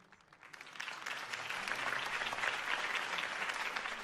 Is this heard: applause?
yes